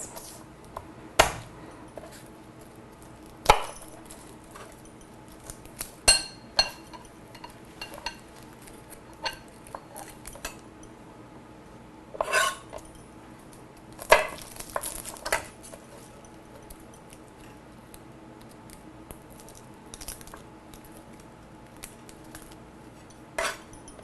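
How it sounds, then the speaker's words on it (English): A kitchen knife minces two garlic cloves on a cutting board, making scattered, irregular knocks and clinks with quiet gaps between them, close and with no speech. "grab my garlic. I've got 2 cloves of garlic. Just going to give this a quick mince."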